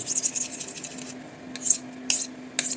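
A blade rasps rhythmically across a Llyn Idwal whetstone in short gritty strokes, with a faint steady hum underneath, close and moderately loud.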